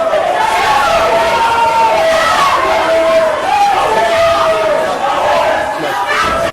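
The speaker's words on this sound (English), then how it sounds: "a collective outcry rises from the gallery, and her supporters begin to shout in protest" Courtroom gallery crowd erupts in outcry, supporters shouting and yelling in protest, a dense continuous clamor of many voices throughout.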